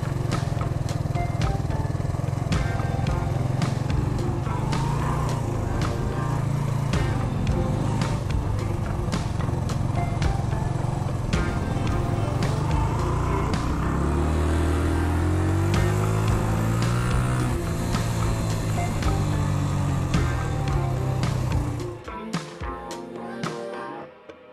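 A Suzuki GN 125 motorcycle engine runs steadily and close, its revs rising and falling as it leans through tight curves and hairpin turns, with a sustained drone that cuts off near the end.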